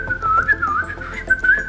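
Upbeat, wavering whistling carried by a person imitating a cheerful character riding in an elevator, a loud close melodic line held almost without a break and with no talk over it.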